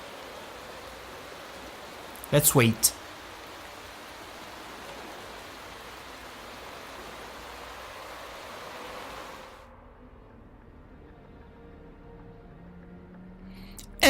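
Steady broadband hiss of heavy rain and spray in the racing game Motorsport Manager that drops away sharply near the end, with a short burst of voice early on.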